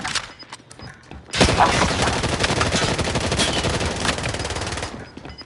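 Sustained rapid gunfire in the video game Warzone bursts in after a quieter start and keeps up a dense, loud, continuous rattle for about four seconds before easing slightly.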